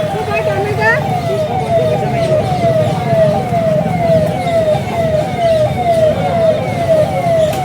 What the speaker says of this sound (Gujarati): પોલીસની ગાડી આવી